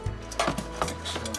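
Chopped root vegetables tipped into a mixing pan, giving a few quick wooden and hollow clattering knocks and thuds in a brief burst, close and fairly loud.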